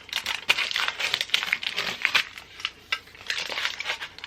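Aluminum foil crinkles and crackles up close as it is wrapped around a flat iron, a busy run of sharp rustles and crunches with short pauses, no talking.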